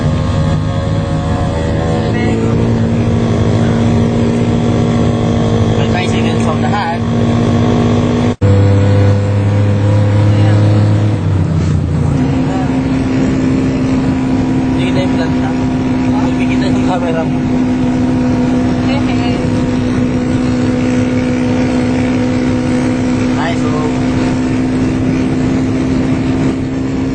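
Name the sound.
motorized tricycle passing on the road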